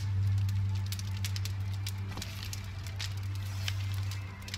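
A campfire burns in the survival video game The Long Dark, giving soft, irregular crackles and pops over a steady low hum. The sound is quiet and continuous, with no talking.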